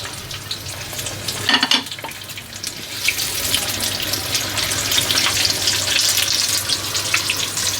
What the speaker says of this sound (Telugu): మళ్ళీ మనము డీప్ ఫ్రై చేసుకుందాం